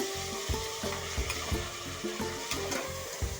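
Chopped tomatoes fry in a hot pan for tomato bath, a steady broadband sizzle with repeated scraping stirs of a spatula about every half second, close and fairly loud with no talking.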